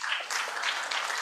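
An audience applauds after a speech at a maritime sovereignty seminar, a brisk, continuous patter of many hands clapping in a room with no voices over it.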